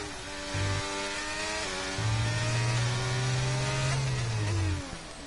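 A racing car engine in a video game, on the Circuit of the Americas track, idles and blips at low revs, a rough droning tone that rises and holds steady for a few seconds before dropping away.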